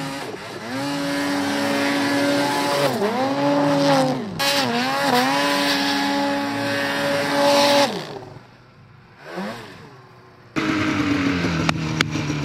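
Turbo snowmobile engine while riding, loud and close, revving in repeated surges with pitch dips and rises as throttle changes, then dropping off briefly before roaring back.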